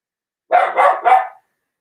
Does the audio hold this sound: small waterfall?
no